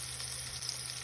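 Dried onion sizzles in a hot pan for pancit, a brief, steady close-up frying hiss with no talk over it.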